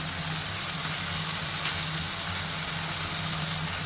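Chili mushroom frying steadily in tomato and chili sauces, a continuous, even sizzle throughout with no pauses.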